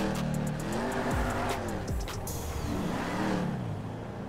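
A 2016 Dodge Charger Hellcat racing in GTA 5, engine revving and rising in pitch through shifts, with tire squeal and skidding as it accelerates hard, loud and continuous throughout.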